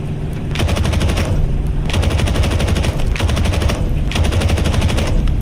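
Aircraft machine guns in the video game Aces of Thunder fire three loud, rapid bursts, each a dense rattling stream of shots, close and continuous with only brief gaps between them.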